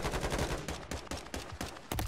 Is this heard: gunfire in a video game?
yes